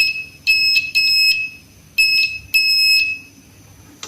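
A continuity tester beeps as its probes touch the wire of a rice cooker being checked for a broken cable. Four high, steady electronic tones sound in two pairs, loud and close, over a quiet background hum.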